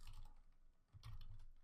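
Keys clatter on a computer keyboard at a desk, in two quick bursts of close, soft clicks with a short pause between them.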